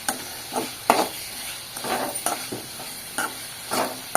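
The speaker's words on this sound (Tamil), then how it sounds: "கொஞ்சம் தக்காளி வந்து வதங்குற வரைக்கும் அதை பரட்டி விட்டுட்டே இருக்கேன்." Tomatoes stirred and frying in a pan for a dried-fish curry, soft steady sizzle broken by regular scraping strokes of the spoon, close, with no voices.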